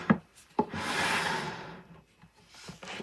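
A porcelain paint palette slides into its holder in an art studio, making one sustained close scraping glide after a couple of short knocks, with a few light taps at the end.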